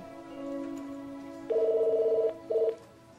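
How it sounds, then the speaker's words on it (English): A telephone sounds in an office setting: a steady tone, then a long electronic ring burst followed by a shorter second burst, clear and close, with no voices. "Your phone is ringing."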